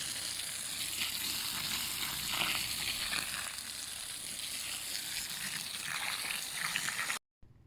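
Pressurized water jet blasting against soil walls in pine-compacted ground being dug for a hugelkultur raised bed, a steady loud hissing spray that stops abruptly near the end.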